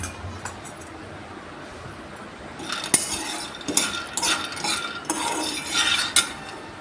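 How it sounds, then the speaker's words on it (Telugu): Sesame seeds and peanuts dry-roasting in a kadai on a stove, a faint rustle growing into bursts of scraping and clinking stirring strokes against the metal in the second half. "స్టవ్ మీద కడాయి పెట్టుకొని 1 కప్పు నువ్వులు వేసి దూరగా వేయించుకోవాలి."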